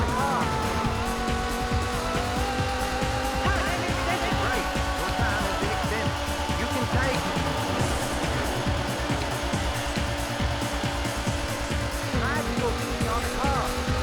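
A racing car in a Sega Saturn video game roars continuously with engine drone and intermittent tire squeals, with game music and effects layered throughout.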